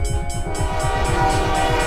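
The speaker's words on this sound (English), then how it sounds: "The lights are flashing, the gates are lowering, the train is on its way." A train rolls up to a level crossing with flashing lights and lowering gates, a loud steady rumble of wheels and rapid rhythmic clatter under a sustained horn-like tone, close and continuous.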